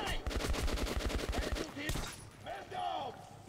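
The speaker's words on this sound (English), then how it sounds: "Oh, it sounds weird being a silent shotgun." A silenced shotgun in the shooter game Metro 2033 fires a rapid, even string of muffled thumping shots for about two seconds, followed by someone speaking.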